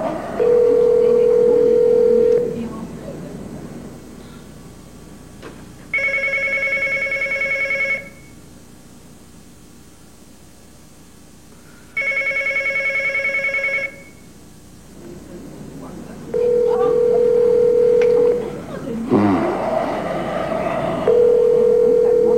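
Telephone handset sounds: a steady dial tone broken by two long bursts of ringing-style tone, then more dial tone with a brief busy, clattering stretch near the end, loud and close with no speech.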